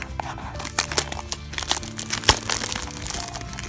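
Blind box packaging torn open by hand without scissors, giving irregular crinkling, crunching and tearing bursts with sharp cracks close to the microphone and no talk.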